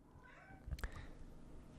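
A cat gives a short, faint meow in a quiet room, with a soft thump or two around it.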